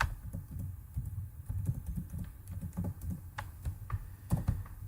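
Fingers tap out a password on a computer keyboard in an irregular run of close, crisp key clicks, with a few sharper strokes near the end and no speech.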